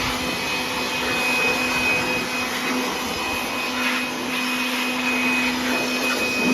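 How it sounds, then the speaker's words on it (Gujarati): A blower fitted on a tractor running at a constant pitch, giving a loud, close, unbroken whirring roar with a steady tonal hum and no pauses. "આવતા વખતે કે બ્લોઅર મારી દો આપણા ટ્રેક્ટરમાં."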